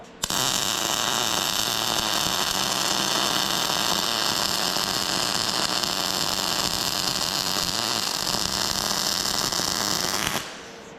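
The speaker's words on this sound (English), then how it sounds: "gonna weld it" Welding on a recovery truck, a steady sustained crackling hiss with a constant hum running unbroken for about ten seconds, close and fairly loud, then cutting off abruptly.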